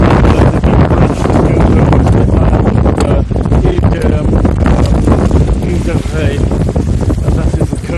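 Strong wind roars across the microphone while a sailboat heads through waves near La Rochelle, a loud, constant buffeting rush with water noise underneath for the whole stretch.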